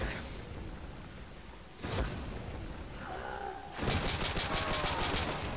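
Bursts of gunfire from a shooter in Call of Duty custom zombies on a Pokemon Stadium map, broadband blasts at the start, around two seconds and a dense rapid volley in the last two seconds, with a faint tone in between.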